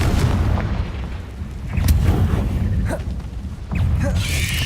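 Booming magical blasts from the Confringo spell in Hogwarts Legacy, a few heavy low thuds with crackling over continuous rumbling combat noise.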